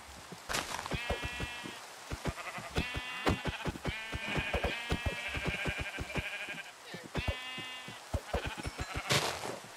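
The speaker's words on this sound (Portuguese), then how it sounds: "Certo, eu consegui mais uma ovelha. Mais uma ovelha branca." White sheep in a Minecraft-style block game bleat several times in quick bursts, close and clear, with a player talking between and over the calls.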